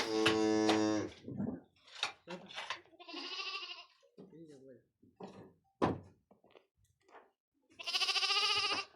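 Sheep bleat on a farm in a couple of loud, drawn-out calls at the start and end, with people talking between them.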